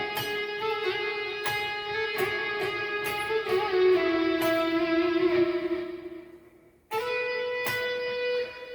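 An electric guitar plays a melodic phrase built on the harmonic major scale over a sustained first chord, with ringing effects-laden notes in steady succession, a brief pause near the end, then two more struck notes.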